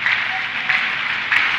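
Church congregation clapping at a thanksgiving service, a dense, steady wash of hand claps swelling in short surges, loud and close.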